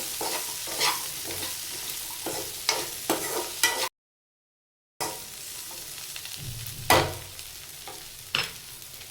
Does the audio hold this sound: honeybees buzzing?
no